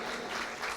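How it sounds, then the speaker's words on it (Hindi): Audience applause at a church gathering, a dense steady patter of many hands clapping together, fairly faint and distant, swelling slightly near the end. "आइए यीशु मसीह के लिए तालियां बजाते हैं"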